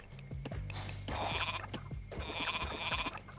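Goats bleat repeatedly in Age of Mythology, several overlapping cries in two bursts over a steady low background hum.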